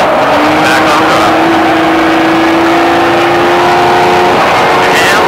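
An exotic car lapping the SpeedVegas track, heard close and very loud from inside as the engine drones at a held high pitch, easing and building again with throttle changes.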